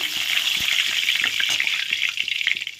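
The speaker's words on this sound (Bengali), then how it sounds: "এখন কড়াইতে তেল দিয়ে দিয়েছি, তেল গরম হয়ে গেছে, দুটো দিয়ে দিলাম তেজপাতা" Two bay leaves sizzle in hot oil in a wok, a steady close, crackling fry that keeps going the whole time with small pops, and no voices over it.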